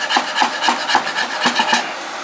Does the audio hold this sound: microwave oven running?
no